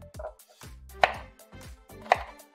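Bell peppers, onion and chili pepper are cut into small pieces on a board for game-day chili, with several knife chops in an uneven rhythm, two of them sharper and louder, close up with no talking.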